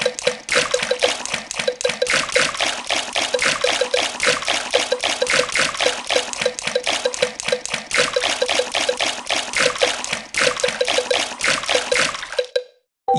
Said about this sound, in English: Peppa and George love splashing in the pool.